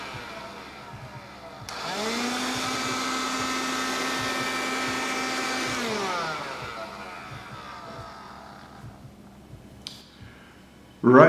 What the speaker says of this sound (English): vacuum the area.